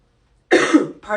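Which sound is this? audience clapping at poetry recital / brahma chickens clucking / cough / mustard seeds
cough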